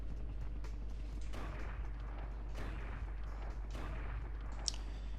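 Shotgun blasts in the video game Fighting Force, a few sharp booming shots spaced over a steady low background hum, with no talking.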